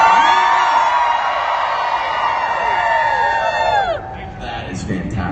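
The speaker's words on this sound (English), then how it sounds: "Let me hear you guys yell real quick." A large fan-convention audience yells and cheers loudly for several seconds, a dense sustained roar of many voices that drops off abruptly near the end.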